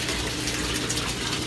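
Water pours through a float valve into an aquaponics sump tank, making a steady, close, continuous rushing gush with a low hum beneath and no voices.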